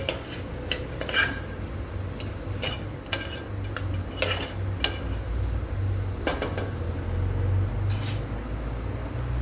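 Chopped tomato is stirred into Kathiyawadi vaghareli khichadi in a metal pot, the spoon scraping and clinking against the sides in irregular bursts over a low background hum.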